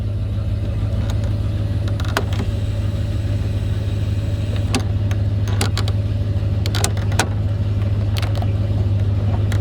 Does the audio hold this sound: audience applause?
no